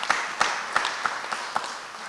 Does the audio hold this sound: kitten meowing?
no